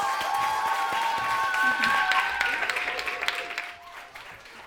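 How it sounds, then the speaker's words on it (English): An audience applauds live performers at the 2018 Laugh Out Loud Book Awards ceremony, with steady, fairly close clapping and a few whistle-like cheers that thin out and fade over the last second. "let's give a huge round of applause to the Lollies live performers"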